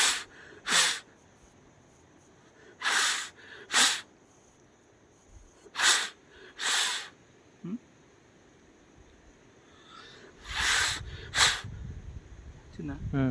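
Frog skin being inflated by mouth outdoors while fishing, with several sharp puffs of breath blown in short bursts separated by pauses, close and breathy, and a brief low voice near the end.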